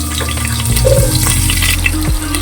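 Potatoes drop into hot refined oil in a wok and fry with a steady, loud sizzle, close up, with a few low bumps and stirring knocks.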